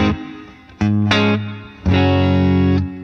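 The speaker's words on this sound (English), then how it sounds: "Onboard reverb, let's have a listen." Distorted electric guitar through a Blackstar St James amp plugin's onboard reverb plays a few strummed chords, each ringing out with a reverberant tail that lingers between hits.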